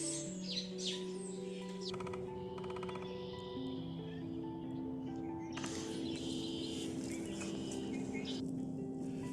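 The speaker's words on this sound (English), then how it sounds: "the northern cardinal" A northern cardinal sings outdoors in a park field, repeated clear whistled phrases and chirps over a steady low hum and ambient noise, moderately distant.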